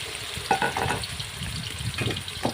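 Curry paste frying in hot vegetable oil with a steady crackling sizzle and bursts of stirring and scraping, close and moderately loud, with no talking.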